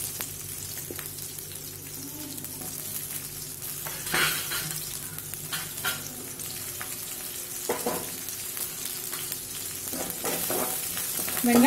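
Continuous sizzling and crackling of onions frying in hot oil, with a few soft clinks of utensils against the pan.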